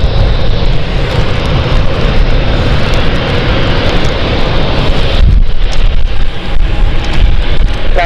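A passenger jet taking off from runway 27 at London City Airport in a 17-knot wind, a loud, steady roar heard outdoors and buffeted by heavy wind noise throughout.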